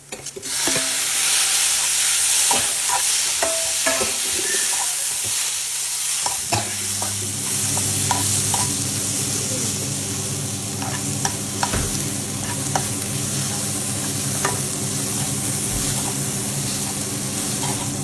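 Tomato sautéing in oil in a pan for mackerel mappas curry, a loud continuous sizzle with a spatula scraping and tapping against the pan throughout, close and unbroken.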